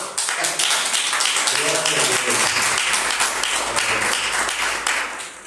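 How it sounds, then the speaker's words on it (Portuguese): A church congregation applauds during a livestreamed pastoral service, dense continuous clapping that swells and holds for several seconds while voices talk over it. "Vamos aplaudir o Senhor"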